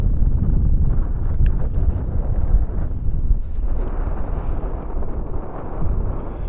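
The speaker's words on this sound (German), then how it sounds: "Ja, doch ein bisschen viel Wind hier." Strong wind buffets the microphone on the beach at Playa del Ingles, Gran Canaria, a loud, continuous low roar with gusty swells throughout and no voices.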